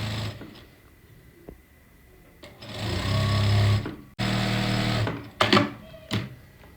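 Electric sewing machine stitching salwar fabric right alongside buckram runs in bursts, a whirring mechanical hum with rapid needle chatter that starts, stops and restarts, fairly close, with no talking.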